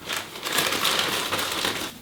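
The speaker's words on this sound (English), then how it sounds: "take some tape and we're just going to tape the plastic bag to the top" A plastic bag crinkles and rustles continuously up close as it is taped over a chimney sweeping rod to seal the hatch against soot, with no voices.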